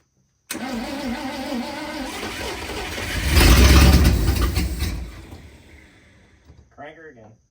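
An old car engine cranks over and over without catching, a steady mechanical churn that swells louder in the middle, then fades as a voice speaks briefly near the end.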